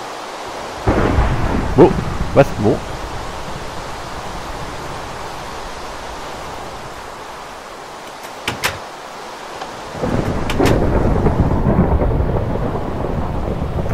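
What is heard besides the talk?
thunderstorm with rain in the video game Minecraft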